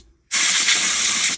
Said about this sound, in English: Now, usually you can hold the fan down and then spray